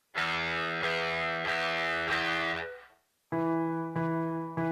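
Guitar notes on the first string, E, strummed repeatedly with a sustained bright tone, a short gap, then another ringing strum.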